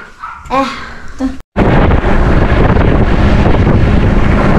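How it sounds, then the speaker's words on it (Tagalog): After a short bit of speech, outdoor wind roars loudly and steadily against the microphone, a dense, constant rush that fills the rest of the clip. "Malamig ang simoy ng hangin."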